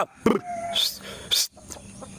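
Chickens for sale, a rooster and two hens kept together, give a few short, sharp clucks and squawks close by in quick bursts, with brief quiet between them.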